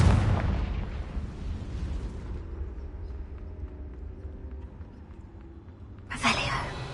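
A Confringo fire spell in Hogwarts Legacy bursts in a loud explosive blast, then a long rumbling decay fades over several seconds before a second sharp burst near the end.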